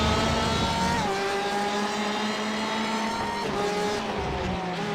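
A Ferrari and a Porsche race cars tear past in a racing game, engines screaming at high revs with rising and falling pitch as they shift, loud and continuous throughout.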